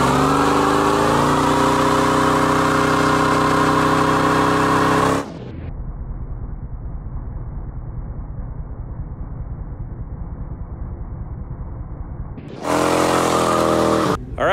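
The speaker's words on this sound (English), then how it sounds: "I'm gonna head out and try and find a good spot for a nice smoky slow motion burnout" A Dodge Dakota R/T roars loud and steady at high revs during a tire burnout, drops suddenly to a rumbling idle for several seconds, then surges back to full revs near the end.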